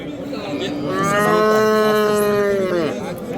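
A two- or three-month-old calf gives one long, drawn-out moo close by, rising and holding before trailing off.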